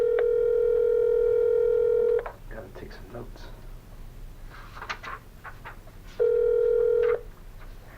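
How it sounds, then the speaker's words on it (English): A telephone line tone sounds loud and steady twice as a call rings out, with a pause between the rings. Someone speaks briefly in the gap between them. "We're going to give him a call."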